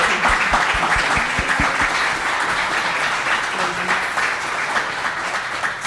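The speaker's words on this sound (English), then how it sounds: "I'd love to give them a round of applause and thank them for their time." An audience at a cybersecurity panel event applauds the panelists, with a few distinct claps at the start that merge into steady, sustained clapping, and a faint voice underneath.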